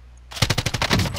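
Video game battle gunfire: a loud, close automatic burst of about eight quick rounds that bursts out of near silence, with no talking over it.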